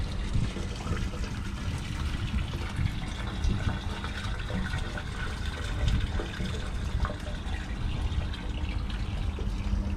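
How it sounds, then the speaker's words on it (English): Water gushes steadily out of an RV dump tank through a hose, a continuous rushing, churning flow that stays fairly loud and even throughout with no talking. "If you have full tank, it may take a minute or so to flush the tank out."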